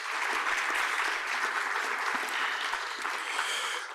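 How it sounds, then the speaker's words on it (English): An audience at an MLK Day celebration applauds steadily and fairly loudly for the whole stretch, a dense, continuous clapping with no break. "can we give them a round of applause"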